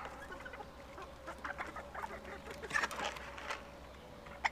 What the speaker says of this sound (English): We don't need this many roosters, but we have a lot of them.